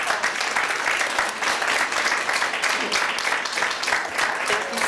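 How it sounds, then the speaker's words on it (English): Closing applause from an audience at a reproductive freedom and state power panel, continuous mid-level clapping from many people with a slightly uneven, pulsing texture throughout. "let's do another round of applause."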